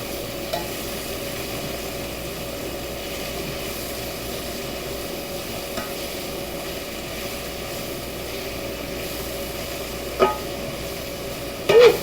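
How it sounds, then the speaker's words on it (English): Mushrooms and onions sauté in bacon grease for Salisbury steak, a low, continuous sizzle with occasional soft stirring clicks and a brief clatter near the end; no voices are heard. "we're gonna go in with those mushrooms and the onions and get this thing popping."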